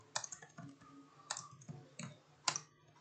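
Quick bursts of keyboard typing on a computer, a few clustered clicks then pauses, close and fairly quiet with no talking.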